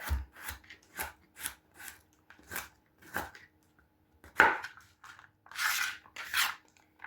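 A knife chops food into pieces on a board, about a dozen crisp, evenly spaced strokes close up, with a short pause and a rougher scrape near the end, and no talking.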